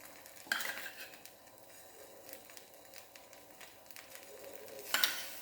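Tomato sauce being spread over a dosa in a hot pan, with soft scraping and light sizzling throughout and a couple of louder utensil clinks near the start and end.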